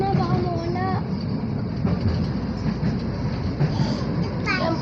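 Train at Cariago station in Santa Cruz, a rumbling rail and engine drone with clattering and a few high squeals, heard close by under people talking nearby.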